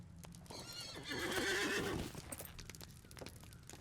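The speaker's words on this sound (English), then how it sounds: "Let me actually get on my horse." A horse whinnies in LOTRO, a loud, wavering neigh rising in the middle, framed by scattered hoof clip-clops before and after.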